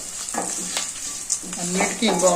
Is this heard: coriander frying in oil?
yes